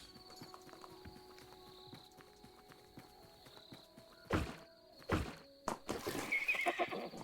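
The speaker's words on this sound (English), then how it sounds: "Make sure that I water the horse." A video game horse whinnies loudly several times over steady clip-clop hoofbeats and a faint background hum, the neighs growing louder toward the end.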